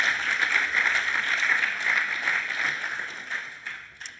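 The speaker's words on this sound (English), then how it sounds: "I think he deserves an applause." Audience applause at a university event, a steady wash of many hands clapping at moderate volume that gradually thins and fades out toward the end.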